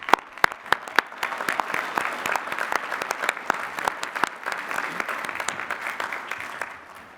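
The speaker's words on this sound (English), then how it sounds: "Please recognize the Doctors of Philosophy with our hearty congratulations and applause" Newly conferred Doctors of Philosophy receive applause at Lehigh University's 150th spring commencement. It begins with a few distinct, sharp claps, swells into sustained clapping across a large venue with scattered loud individual claps standing out, and then fades at the end.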